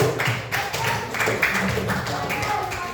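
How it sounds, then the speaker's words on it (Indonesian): Junior high students clapping in a classroom, a burst of uneven hand claps with sharp taps standing out, mixed with chatter and voices close by. "Beri tepuk tangan dulu ke Olivia."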